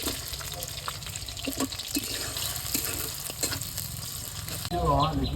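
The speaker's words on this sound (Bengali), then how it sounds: "পিঁয়াজ কুচি দিয়ে দিলাম" Chopped onion frying in oil in a wok alongside shrimp, a steady close sizzle with faint scraping and a watery hiss through the clip, louder in the last second.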